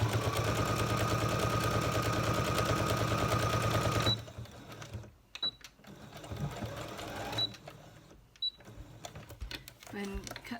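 A sewing machine stitching a chain seam on a snap fastener runs in a loud, steady rapid whirr for about four seconds, then stops and restarts in short bursts for backstitching.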